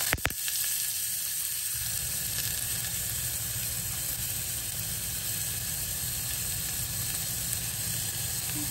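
Chopped onions hitting hot oil in a pan, a steady close sizzle and crackle that fills the whole stretch without any talking.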